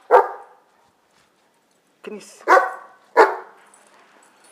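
A dog barks outdoors in snowy surroundings, one sharp bark, then a pause and three more barks in quick succession, close and loud, while a person speaks briefly.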